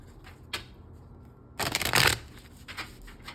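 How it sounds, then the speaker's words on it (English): A brisk riffle of playing cards being shuffled, a short burst of crisp fluttering clicks, with a couple of lighter card taps before and after. "So let's give one more big shuffle here."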